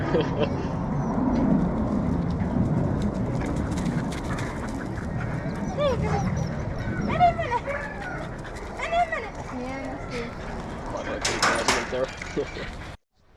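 Husky dogs bark and whimper at a husky park near the Arctic Circle, with yips and short cries rising over steady outdoor noise while people talk throughout.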